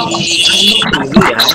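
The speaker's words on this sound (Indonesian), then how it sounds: "Suaranya kayak ada cicit suara burung semua." Close, loud bird chirps and cooing warble heard through unmuted microphones on an online class call, over a busy, slightly garbled background.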